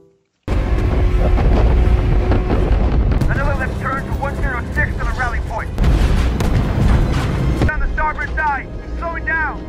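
Bombs burst in a war film, a loud continuous roar of blasts and rumbling with aircraft noise, backed by dramatic music, close and overwhelming throughout.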